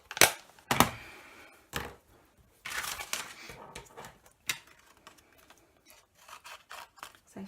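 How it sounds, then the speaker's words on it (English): Scissors cutting out stamped cardstock card pieces, a few close, crisp snips and rustling paper handling spread unevenly across the moment, quiet pauses between cuts. "So first I'm just going to sort of loosely cut them all out so that I don't risk ruining them"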